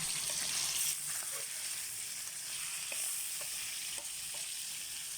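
Tiny alamang shrimp paste fries in a pan in a Pangasinan-style sauté, giving a continuous bright sizzle with light scrapes of stirring, close and without voices.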